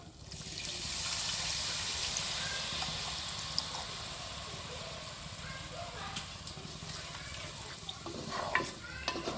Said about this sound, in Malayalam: നമ്മൾ നേരത്തെ എടുത്തു വെച്ച മാങ്ങര വെള്ളമാണത് ഇത് നമുക്കിതിൽ ഒഴിച്ചു കൊടുക്കണം